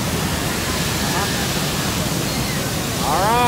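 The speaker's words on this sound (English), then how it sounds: "Almost under the falls." Niagara Falls thundering at the Cave of the Winds, heard from almost beneath the falls: a steady, loud, broadband roar of pouring water that swells slightly near the end as a voice murmurs faintly over it.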